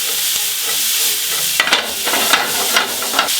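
Onions sweat in a frying pan with a steady bright sizzle, broken by a few scraping stirs of the pan in the second half, close and loud.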